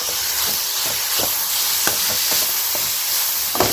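Shredded cabbage sautés in a pan under a continuous close sizzle, with repeated short scrapes and taps from stirring every half second or so.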